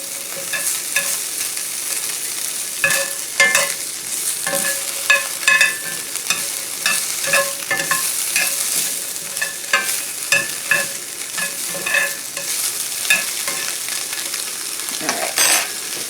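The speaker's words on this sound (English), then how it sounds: "we're going to toss this around so it can brown" Spam fries and browns in a hot pan, a continuous bright sizzle broken by repeated clattering taps and scrapes as the pieces are tossed and stirred, close up with no talking.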